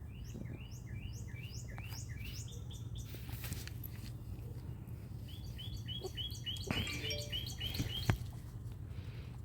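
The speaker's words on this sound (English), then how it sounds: "That's a cardinal." A cardinal sings outdoors, repeating quick slurred whistled notes in short runs over a low background hum, faint and somewhat distant.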